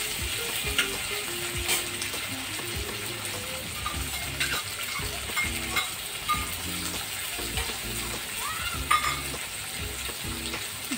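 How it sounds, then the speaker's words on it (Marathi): Stuffed okra fries in hot oil with garlic, a steady close sizzle running throughout with frequent scraping and clinking as the pieces are stirred in the pan. "त्याच लसणाच्या आणि तेलामध्ये त्या भरलेल्या भेंड्या आपण परतून घेऊया"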